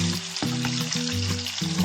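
Miniature garlic sizzling in a tiny pan of cooking oil, a soft continuous fry with faint crackle, steady and close throughout.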